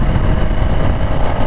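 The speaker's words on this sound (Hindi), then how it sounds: "हैरिस का बाइक में, तो अभी पता चल रहा है फ़र्क, बहुत ही खतरनाक रिस्पॉन्स आ रहा है।" A KTM Duke 390 Gen3 motorcycle fitted with an NGK Laser Iridium spark plug runs close by, a loud, rough, steady engine roar with no voices.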